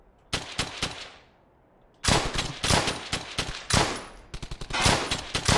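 Rapid bursts of rifle and machine-gun fire from the World War II shooter Brothers in Arms: Hell's Highway, loud close shots in clusters with a brief pause, then sustained volleys.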